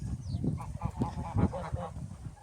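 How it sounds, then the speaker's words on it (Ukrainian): Farmyard geese, older birds let out into a shared yard with turkeys and ducks, give a run of repeated nasal honks, close and fairly loud, overlapping in an irregular chattering rhythm with no talking. "Так, ці наші гуси. Старих гусей теж випускаємо сюди."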